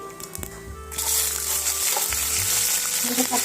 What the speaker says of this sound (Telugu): ఆవాలు తర్వాత పచ్చిమిర్చి వేసుకుందాం అవి వేగిపోయినాయి